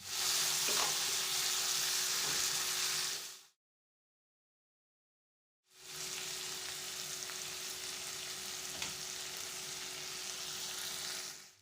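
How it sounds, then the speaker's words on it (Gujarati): Finely chopped tomatoes sizzle and fry steadily in a pan for Gujarati navi bhaji, with occasional stirring scrapes; the sound cuts out briefly in the middle, then resumes at a similar moderate level. "હવે તેમાં ઉમેરીશું 2 ઝીણા સમારેલા ટમેટા અને હવે મિક્સ કરી ટમેટા સોફ્ટ થાય ત્યાં સુધી કૂક કરી લઈએ."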